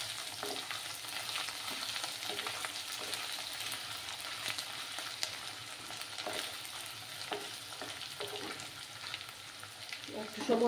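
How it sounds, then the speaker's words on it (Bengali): Potatoes with grated ginger frying in a pan for a vegetarian mixed vegetable dish, giving a steady close sizzle with soft stirring scrapes throughout and a louder clatter at the end. "আবার আদা আলুগুলোকে একটু ফ্রাই করে নেব।"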